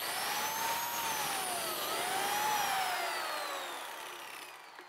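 A biscuit joiner cuts a slot into wood while building a waffle ceiling, giving a steady, close, high-pitched whirring roar with a wavering whine that holds for about five seconds and tapers slightly at the end, with no talking.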